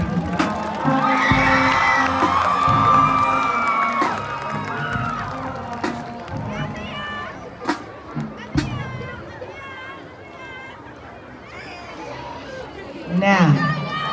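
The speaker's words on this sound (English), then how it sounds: "Please, everyone, give a round of applause for all of our candidates." High school homecoming crowd at a Shaw vs Carver football game cheering and applauding candidates, with a loud sustained roar of voices and shouts that slowly subsides into babble and then swells again briefly near the end.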